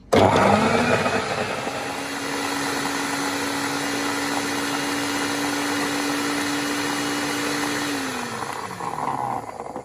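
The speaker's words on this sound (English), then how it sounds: "Cover the blender for safety. I'm going to go on the first speed." A loud, steady motor whine from a blender on first speed blending green mangoes, running continuously, with a harsh grinding texture and a slight pitch drop near the end.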